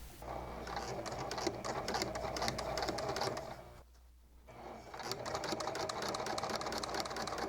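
A sewing machine stitches reflective tape onto a hat, running in a steady continuous whir with a brief pause midway before resuming at the same close, even pace.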